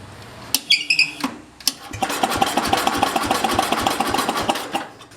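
A Simplicity 7010 garden tractor engine with gas poured down the carburetor cranks in a few short bursts, then catches and runs with a rapid, steady, close chugging that fades near the end.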